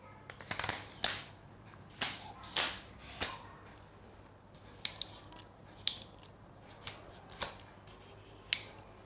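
A camera tripod's leg lock clicks repeatedly, about a dozen sharp, close plastic snaps spaced irregularly with quiet gaps between them, no talking.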